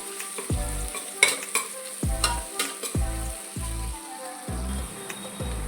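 Ginger garlic paste fries in a pan for sweet corn veg biryani, sizzling steadily while a spoon scrapes and stirs in repeated strokes about once a second, close and clear with no voices.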